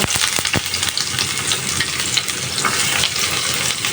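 Chopped bottle gourd fries in a pan over a gas stove, a continuous close, bright sizzle with a few sharp crackles and pops near the start, steady throughout.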